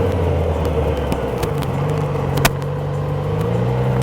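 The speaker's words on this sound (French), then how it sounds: "je commence à freiner et rétrograder pour atteindre le demi-tour en première" A motorcycle on a closed training course brakes and downshifts toward first gear for a U-turn, its engine a steady close drone with the pitch shifting lower, and a single sharp click partway through.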